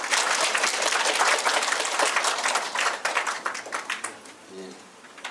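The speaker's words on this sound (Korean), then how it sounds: "강사님께 다시 한번 큰 박수 부탁드리겠습니다." An audience claps after a lecture in a Korean town hall setting, a dense, steady wash of applause that thins and fades toward the end, with a brief voice surfacing near the close.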